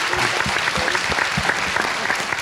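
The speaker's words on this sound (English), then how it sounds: "fantastic, give a round of applause" Lively audience applause after a talk on the space race and representation, dense clapping with distinct individual claps, loud and close, sustained throughout.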